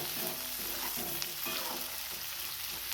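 Green peas fry in hot oil, a constant dense sizzle with regular stirring scrapes and a few sharp pops, close and fairly loud throughout.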